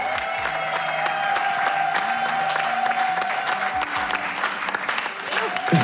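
A television studio crowd at A Dal 2021 keeps clapping for Gergő Szekér, a thick continuous wash of applause with a few faint cheers mixed in, sustained at an even level.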